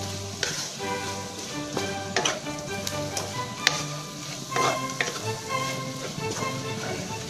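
Anchovy sambal with petai belalang sizzles steadily in a frying pan while a utensil stirs and taps through it, with scattered scrapes and clicks over the constant frying hiss, close and moderately loud.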